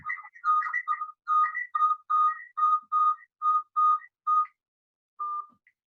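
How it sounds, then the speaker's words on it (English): A phone being switched off gives a series of about ten short, evenly spaced electronic tones, clear and fairly close, with a final short beep after a pause and no talking. "Let me turn off my phone."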